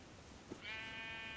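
A sheep in Minecraft gives a single clear bleat partway through, a wavering nasal call that carries on to the end with no talking.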